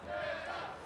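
Shouting concert crowd in front of the stage at Peats Ridge 2011, a brief sustained roar of many voices, loud and close.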